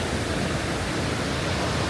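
Niagara Falls in Taiwan roars as a steady, loud, dense wash of falling water, a constant broadband rush that fills the scene without a break or any voices.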